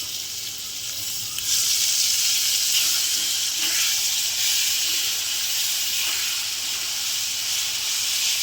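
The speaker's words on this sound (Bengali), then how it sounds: "মশলাটা ভালো করে কষিয়ে নেব।" Spices sizzling in hot oil in a pan, with cumin, coriander and turmeric powders, ginger, green chili, garlic and tomato paste being fried for a fish curry; a loud, steady close-up hiss and crackle with no talk.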